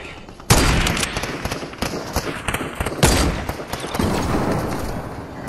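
Mythic sideways rifle firing in a video game: loud bursts of rapid shots, a sharp opening volley followed by continued crackling fire and a second heavy burst, dense and close.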